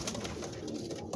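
Breeding pigeons coo continuously in a loft, a dense, close chorus of low throaty calls overlapping throughout with no pauses.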